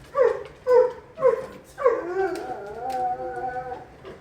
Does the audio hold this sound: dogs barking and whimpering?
yes